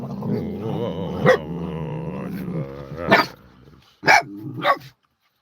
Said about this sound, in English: You only bark at dogs while you're in the car,